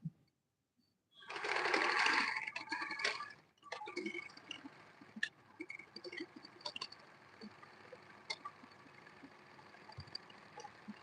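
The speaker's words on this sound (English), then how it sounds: "begin stitching. Stitching slowly" A sewing machine stitching stretchy fabric slowly, starting with a loud run of rapid stitching, then continuing more quietly as sparse ticking and clicking mechanical sounds.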